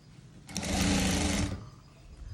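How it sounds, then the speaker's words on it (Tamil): A sewing machine stitches the folded frill of a princess line frock, one close, steady mechanical whirr lasting about a second, then stopping. "முதலாவது ஃப்ரில்ல வந்து இந்த மாதிரி தூர தூர மடிப்பு போட்டு தைக்கிறேன்"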